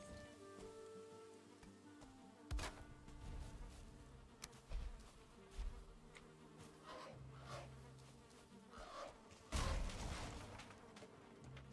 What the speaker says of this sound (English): there's a beehive in there